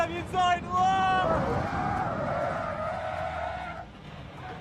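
Tyres shriek in a long, wavering skid as a Caterham race car's brakes lock up at Brands Hatch, loud and close, with engine noise and voices underneath.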